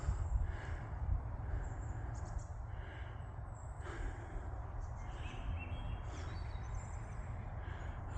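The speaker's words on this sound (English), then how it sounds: "sound of the birds echoing through the forest" Faint birds chirp and call in the distance in a forest at Bruceport Campground, over a low, steady rumble of outdoor ambience, several short calls spread throughout.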